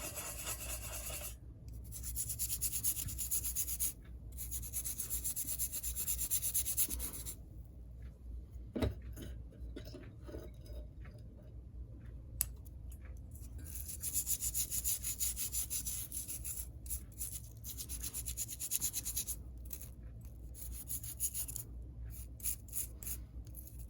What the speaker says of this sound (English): Now we can take isopropyl alcohol and scrub this guy down.